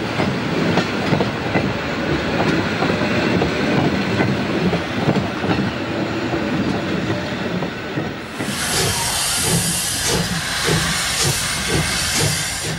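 A steam locomotive moves back onto its train after coaling and taking on water, with a continuous loud rumble and clanking, then a strong steady hiss of steam accompanied by rhythmic chuffing.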